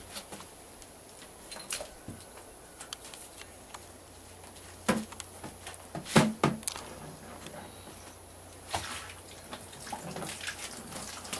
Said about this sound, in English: So I'm going to show you how simple it is to get the water out just by pumping it here.